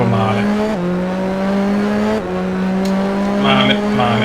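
A 1988 McLaren Formula 1 car in the GP4 racing game, its engine holding a steady high-pitched whine that dips at each gear change and climbs again, loud and continuous, with a brief squeal of tires.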